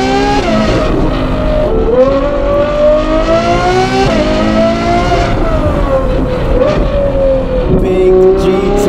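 A Ferrari 812 GTS fitted with a Novitec sport exhaust revs loudly and close. The engine climbs, drops and climbs again in repeated rises, with a strong, tonal roar throughout.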